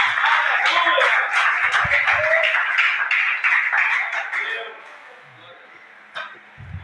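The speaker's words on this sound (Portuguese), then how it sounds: "Aplaude!" Congregation applauding during a church sermon, a dense wash of many hands clapping that holds steady for several seconds, then thins and fades out, with a few stray claps near the end.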